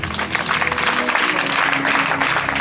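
A church congregation claps and cheers steadily, a dense, continuous wash of applause filling the space, close and fairly loud throughout without any clear speech.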